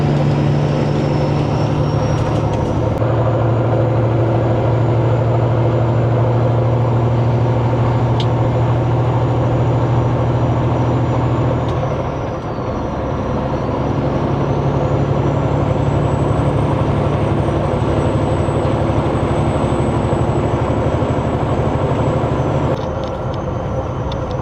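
A big truck towing a large empty trailer rolls past at close range, a loud, steady low rumble with rattling that swells and fades over about twenty seconds, with no talking.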